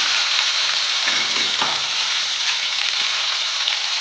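Chopped onion and tomato fry in a pan for a fenugreek and okra dry curry, giving a steady, loud hiss and crackle that holds for the whole stretch with no voices.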